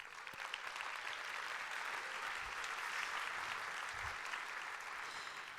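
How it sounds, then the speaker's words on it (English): An audience applauds at an awards event honoring women making a difference, a sustained, even wash of many hands clapping, fairly distant and soft, with no speech over it. "Let's give Joni Brooks and the entire team at the Journal-Record a round of applause."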